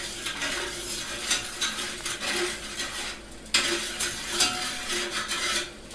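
A spoon stirs coarse salt and sugar in a pot for a tomato marinade, making continuous scraping and clinking against the metal at moderate volume with no talking.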